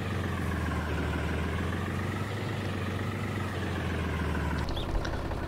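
A Deutz DX 310 tractor idles in Farming Simulator 19 with a steady low mechanical drone that holds constant and close, then cuts off near the end.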